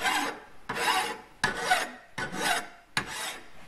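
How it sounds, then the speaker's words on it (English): A file rasping a knife edge into truck spring steel, five slow, even strokes of scraping grit, each starting sharply and fading, close and with no voices. "you can see Tony's making an edge, like a knife edge"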